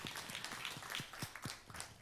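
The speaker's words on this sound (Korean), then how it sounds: "우리 박수로 한번 하나님께 감사드리도록 하겠습니다." Church congregation applauding after a testimony at a worship service, a steady patter of hand claps at moderate volume with soft room reverberation.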